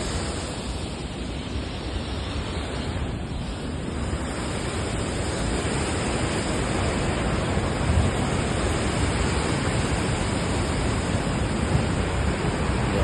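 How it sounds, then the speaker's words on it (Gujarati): Water rushes steadily over the edge of an overflowing village lake, a constant loud roaring hiss with no pauses, heard close and alone. "અહીંયાથી જે આખો જે તલાવ છે એ ઓવરફ્લો થયો છે"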